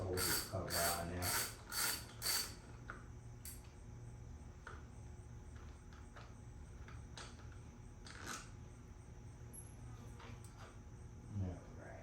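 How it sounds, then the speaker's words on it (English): A ratchet wrench clicks quickly at close range while removing one of three bolts from a Kohler engine cover. Several loud bursts of rapid clicking come first, then quieter mechanical ticks and handling noises follow. "there's 3 bolts that hold this cover on there."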